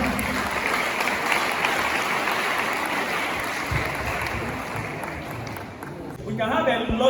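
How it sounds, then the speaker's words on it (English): Audience clapping for a speaker at a youth forum, a dense steady wash of many hands that holds for several seconds before thinning, with voices rising near the end. "Clap for sir."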